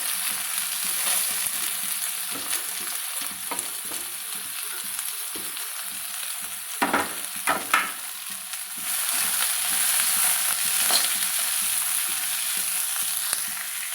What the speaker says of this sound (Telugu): ఇప్పుడు ఈ ఉల్లిగడ్డ ఫ్రై చేసుకుందాం.